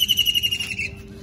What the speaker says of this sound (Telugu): బర్డ్